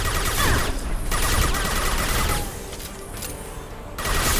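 Dense gunfire in the sci-fi shooter Mass Effect Legendary Edition, a loud, sustained battle din of rapid shots and impacts that thins briefly midway before surging again.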